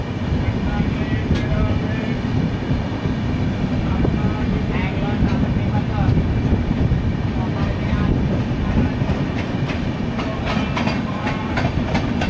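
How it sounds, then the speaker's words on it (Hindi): The Shiv Ganga Express hauled by a WAP7 electric locomotive rolls past toward New Delhi: a loud, continuous rumble with rhythmic wheel clatter and clicks over the rail joints, sustained close by throughout. "लोकोमोटिव WAP7 के साथ शिव गंगा एक्सप्रेस बनारस न्यू दिल्ली, नई दिल्ली की तरफ जा रही है।"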